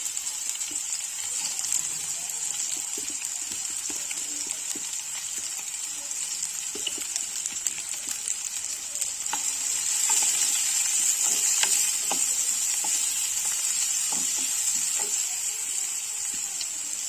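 Chopped carrots go into a hot pan of vegetable chowmein stir-fry, with a steady, loud sizzle that swells midway and scattered clicks of a spatula against the pan.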